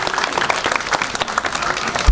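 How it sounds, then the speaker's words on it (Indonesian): Crowd at a Balinese Calonarang temple performance applauding the gamelan musicians, dense, loud, continuous clapping close by with a faint murmur of voices beneath. "tepuk tangan untuk penabuh"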